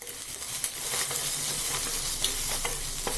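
Potatoes and chickpeas are stirred with coriander powder, turmeric and garam masala in a pan for aloo chana masala curry, giving a steady sizzling hiss with scattered spoon scrapes and clicks throughout, with no talking.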